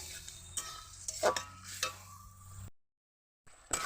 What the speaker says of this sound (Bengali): শাকটার মধ্যে এই চালগুলাটা দিয়ে দেব দিয়ে একটু ভালো করে নেড়ে ছেড়ে দেবো